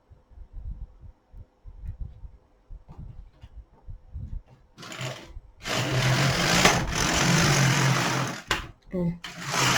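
Domestic sewing machine stitching rows on a baby romper sized for six months, a dense rapid whirring burst after several seconds of soft handling noises and quiet talk, stopping briefly then resuming.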